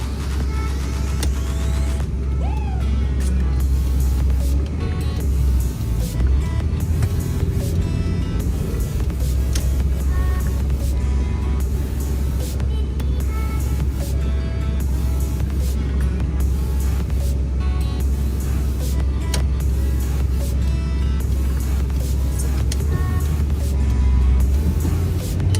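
A right-hand-drive 1989 Toyota Land Cruiser HJ60 turbo diesel drives around town, its low engine drone loud and constant from inside the cab, with road rumble throughout.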